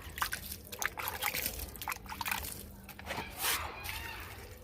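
Water trickles and splashes as it is poured into garden plant containers, in uneven bursts of dribbling and sloshing, with a louder pour near the end. A voice is heard faintly in the background.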